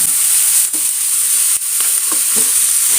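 Drumstick flower thoran for Kerala-style cooking sizzles steadily in a pan as it is stirred, a constant bright frying hiss with a few soft scraping stirs, close and alone.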